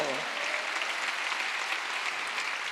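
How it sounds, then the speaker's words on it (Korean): Church congregation clapping during a Sunday worship sermon, a dense, steady wash of applause right after a brief voice at the start. "깨달은 사람만 박수 치라고요"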